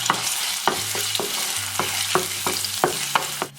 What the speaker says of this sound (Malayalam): ഇതിലേക്ക് നമുക്ക് 1 ടീസ്പൂൺ ഇഞ്ചി വെളുത്തുള്ളി പേസ്റ്റ് ചേർത്ത് കൊടുക്കാം.